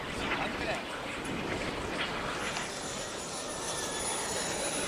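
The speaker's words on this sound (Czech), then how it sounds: "Tak po jednom ostrém nízkém průletu následoval ostrý nízký průlet v zatáčce." A jet aircraft makes a sharp low pass in a turn at an air show over a Czech airfield, giving a loud broad roar that swells and holds, with a faint high whine above it.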